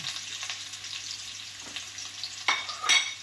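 Garlic and onion sauté in a pan, giving a steady hiss with a few sharper scraping stirs near the end, close and moderately quiet, with no talking.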